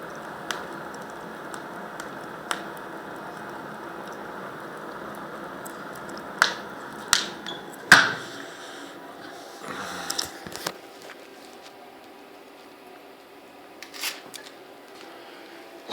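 Wood fire crackling inside a freshly lit long-burning boiler, with sparse sharp pops and snaps over a steady low roar, some clustered and louder, others faint.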